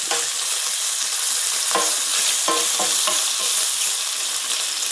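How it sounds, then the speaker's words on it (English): Pre-cooked andouille sausage browning in a pan for crawfish jambalaya, with a loud continuous hiss and crackle and a few brief scraping stirs. "What we want to do is just kind of brown the sausage just a little bit, get a nice little scarring"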